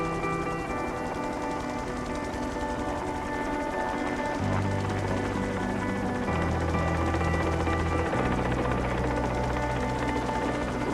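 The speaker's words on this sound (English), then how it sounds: "Heads up, rotor wash coming." A helicopter's rotor wash swells into a steady, loud broadband roar with a low thrumming drone that shifts pitch partway through, all continuous and close, with no voices over it.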